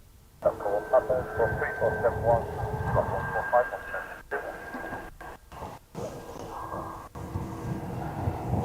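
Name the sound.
Ryanair airliner taxiing at East Midlands Airport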